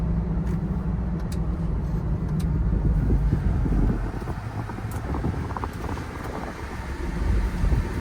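Tire and road noise fills the cabin of a car fitted with an Armadillo hard top, a loud, steady broadband roar with wind rush that holds for the whole stretch and has no voices over it.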